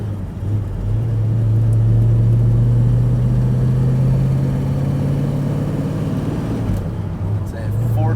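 A 1969 Yenko Camaro 427 with a four-speed pulls away on a cold day, a steady close engine drone rising and holding for several seconds before easing off near the end.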